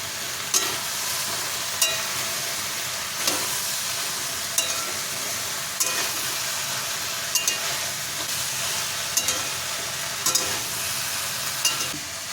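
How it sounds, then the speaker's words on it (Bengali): Mixed vegetables with poppy seed paste frying for shukto, a continuous close sizzle broken by regular spatula scrapes and knocks against the pan every second or so, with no talking. "এর মধ্যে এক চামচ পোস্ত বাটা দিয়ে দিলাম আবার একটু ভেজে নেব"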